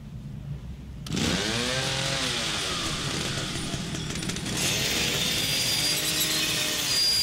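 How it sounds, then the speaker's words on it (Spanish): A chainsaw in the horror video game The Evil Within starts up and roars steadily, its engine revving and wavering in pitch, loud and close, continuing without break to the end. "Obviamente la motosierra la tiras, porque no puedes ir por la vida con motosierra."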